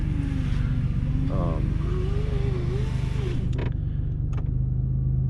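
An old Ford Thunderbird engine runs on gas left sitting for over two years, idling with a steady low rumble and a creaking whine, while a voice talks over it.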